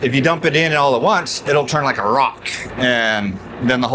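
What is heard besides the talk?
None of the usual background noises is heard.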